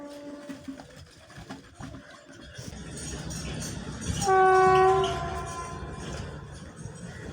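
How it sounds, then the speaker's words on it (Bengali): An Indian Railways WAP-4 electric locomotive rumbles past with rising rail noise, and a loud, steady horn blast cuts in for about a second at its peak before the rolling sound carries on. "ওয়্যাপ 4 আসছে, ওয়্যাপ 4"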